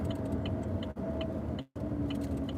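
A car engine idling steadily with a faint, regular ticking from under the hood, the hum broken by two brief dropouts.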